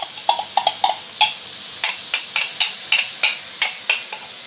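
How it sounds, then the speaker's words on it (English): Onion frying in onion oil in a pan, with a steady background sizzle broken by a dozen or so sharp, evenly spaced scraping or stirring strokes, close and fairly loud. "Now we are going to use onion oil to fry onion."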